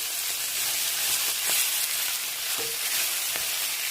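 Mussels fry in a pan with a steady, dense sizzle throughout, while a few soft clinks and stirring knocks stand out above the hiss.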